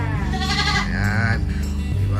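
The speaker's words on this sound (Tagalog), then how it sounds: "So, ayan yung mga kambing niya." Anglo-Nubian dairy goats on a goat farm bleat loudly and close, one long wavering bleat followed by another drawn-out cry, with a voice briefly speaking nearby.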